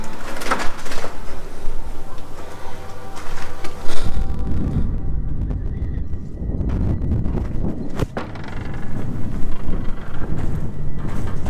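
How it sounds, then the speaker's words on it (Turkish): Strong wind buffets and roars continuously, with gusts rising and falling and occasional knocks, no voices. "rüzgar bayağı bir sert esiyor"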